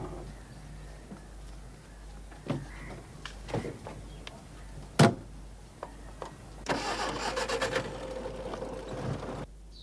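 A car engine turns over with a few clicks and thumps, then catches and runs with a rough, fluttering idle in the last few seconds, fairly close and moderately loud.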